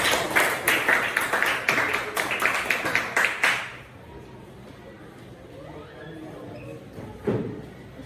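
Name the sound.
applause for group 4 in a classroom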